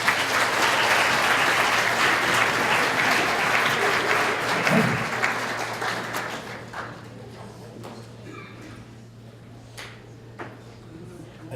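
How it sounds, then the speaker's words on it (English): Guests at an anniversary dinner applaud honorees with full, dense clapping that fades out over several seconds, leaving a low steady hum and scattered faint claps and sounds from the room. "Please give them a round of applause."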